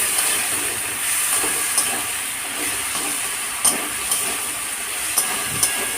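Masala of tomato and ginger-cumin-chili paste frying in oil for Kabli chana ghugni, a steady close sizzling hiss with occasional soft clinks of a spatula against the pan.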